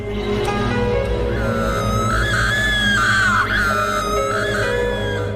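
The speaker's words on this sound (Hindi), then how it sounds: "और नंदिता की चीखें" A woman screams in a horror story, a long, loud, wavering cry rising and falling over a droning, ominous background score, with no talk.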